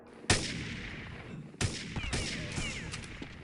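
Gunfire in a video game shooter: two sharp loud shots with echoing tails, then a burst of rapid fire, close and dominant.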